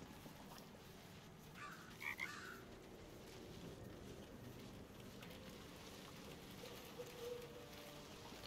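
A frog croaks in a video game, two short distinct calls spaced apart over a quiet ambient bed of soft rain-like background noise, with no talking.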